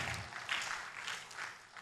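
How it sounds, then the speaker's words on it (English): An audience at a national NGO forum on ending child labour gives a short round of applause, dense clapping that swells briefly and fades within a couple of seconds. "So a hand of applause for Miracle Damanka."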